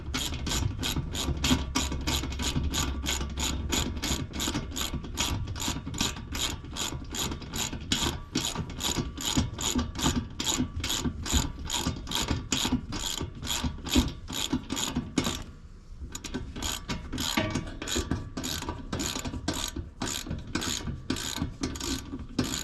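A ratchet tightens bolts on an under-seat MOLLE storage unit inside a GMC Sierra, making a fast, steady run of close clicking pawl strokes with one brief pause before the clicking picks up again.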